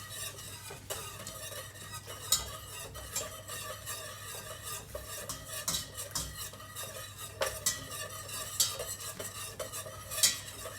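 Dark chocolate melting in a pot over very low heat, stirred continuously with a utensil that scrapes and clinks against the pot in an irregular rhythm over a steady low hum, close up and moderately quiet.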